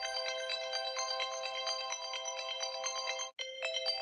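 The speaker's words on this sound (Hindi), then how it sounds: "अलार्म बज रहा है?" A phone alarm tone rings steadily in a repeating electronic pattern, fairly quiet, with one brief gap near the end.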